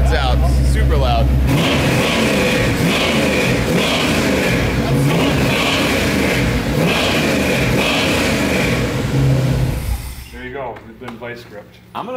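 Loud car engine running rough with a couple of spark plugs removed, a raw revving roar that holds steady for about ten seconds before dropping away as a voice speaks over it.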